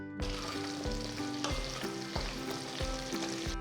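Cut moringa drumsticks fry in a pan for Tamil murungakkai kuzhambu, with a continuous crackling sizzle and a few brief stirring scrapes, close and fairly quiet.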